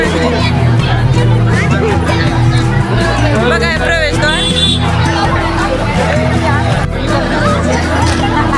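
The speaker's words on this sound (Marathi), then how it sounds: "बघा ही गर्दी." Thick crowd babble and chatter at a packed entrance gate during a Mahaparinirvan Day gathering, loud and steady throughout, with someone speaking close over the din.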